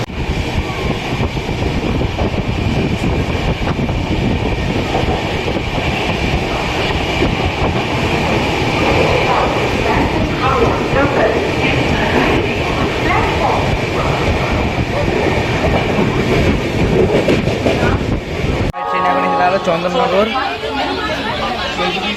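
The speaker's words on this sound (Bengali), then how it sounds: "ট্রেন স্কিপ করবে বেলুর প্ল্যাটফর্ম" The Biswabharati Express train runs past Belur platform with a loud, continuous rumble and rail clatter, passengers chattering throughout, and the sound cuts sharply to a quieter texture near the end.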